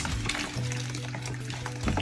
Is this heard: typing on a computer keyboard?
no